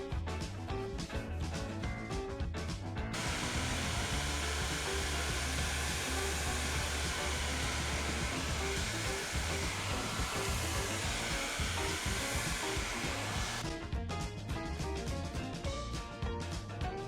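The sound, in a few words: hair dryer heating beeswax on canvas shoes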